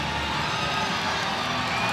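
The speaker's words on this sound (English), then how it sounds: "The crowd are loving that one." Crowd cheering at an RWS Superfight combat event right after a knockout, a steady, broad roar of many voices that holds at an even level throughout without breaks.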